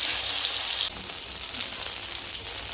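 Brinjal slices frying in hot oil for a Bengali neem begun dish, a steady close hiss and sizzle that stays loud and continuous throughout.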